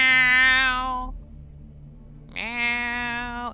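A voice imitates a cat meowing: two long, loud, nasal meows separated by a pause, close and alone without other talk.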